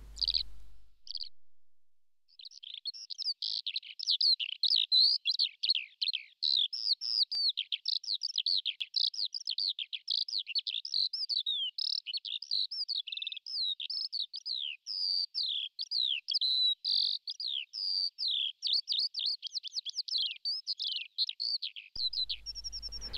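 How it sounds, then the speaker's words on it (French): A common kestrel on the island of Ouessant, France, calls in a long, rapid series of sharp, shrill notes repeated steadily for about twenty seconds, clear and alone against silence. "Le faucon cresserelle."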